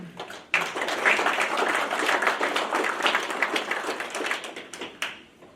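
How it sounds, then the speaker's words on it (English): A legislative breakfast crowd applauds senators as they are introduced, a loud burst of many clapping hands starting abruptly and thinning toward the end, with a few sharp isolated claps. "And a rousing applause."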